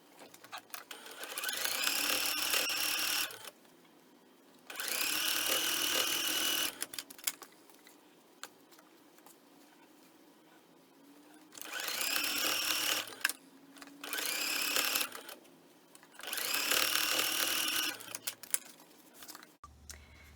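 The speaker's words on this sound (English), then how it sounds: "flip this over here, and then sew them together" A sewing machine stitches quilt block pieces together in several bursts of rapid, whirring stitches lasting a couple of seconds each, separated by quiet pauses for handling the fabric, close and clear with no talk.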